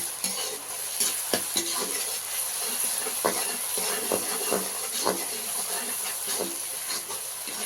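Ginger garlic paste frying for mutton curry gives a soft steady sizzle, punctuated by repeated spoon scrapes and taps against the pan.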